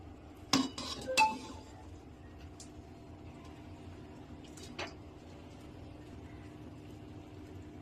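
Metal utensils clink and scrape against a pot as boiled rice is spooned onto the chicken layer for dum biryani, a few sharp clatters early on and one softer knock later, quiet and close in a home kitchen.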